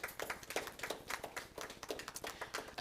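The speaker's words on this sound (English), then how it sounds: "I think that deserves a round of applause." Applause at a quarterly press conference about construction of a creative arts center, a modest crowd clapping in quick, even bursts, faint and somewhat distant, with no one talking.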